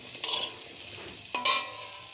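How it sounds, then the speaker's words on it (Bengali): Potato, papaya, carrot and beans are tossed in a karahi pan for a chicken stew, giving two short bursts of stirring and scraping over a faint sizzle, with no talking. "তো এই যে আলু পেঁপে আর গাজরটা একটু ভেজে নিয়েছি, এখন দিয়ে দেবো বিন কড়াইগুলো।"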